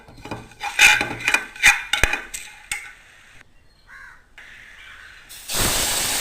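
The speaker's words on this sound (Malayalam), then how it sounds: "അടുത്തടുത്ത് വീടുകളാണ് ആൾക്കാരുടെ വേസ്റ്റ് എടുത്തുന്ന ഇഷ്ടംപോലെ കാക്കകൾ വരും" Crows caw in a cluster of closely packed houses where food waste draws them, several sharp rough calls in quick bursts, then quiet before a loud steady hiss takes over.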